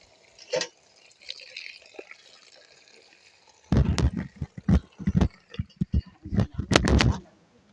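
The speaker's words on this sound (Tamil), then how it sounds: "இதை நாங்கள் நல்ல வடிவாக கழுவி எடுப்போம்" Kangkung greens are washed by hand in a basin of water: quiet at first, then a run of close splashes, sloshes and drips in uneven bursts.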